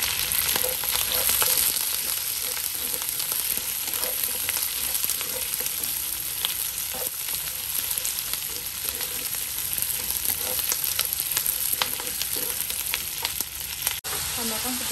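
Chili frying in a pan for sweet and sour fish fillet, a loud continuous oil sizzle with occasional stirring clicks, close and steady with no talking.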